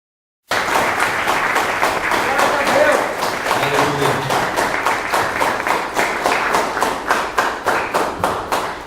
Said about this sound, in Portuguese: Agora você vai aplaudir com toda a força da sua mão